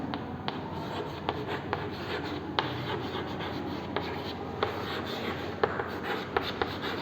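Pen or pencil writing on paper, a quiet, close scratchy rubbing that runs steadily throughout, with small soft taps as strokes start and stop, and no voices.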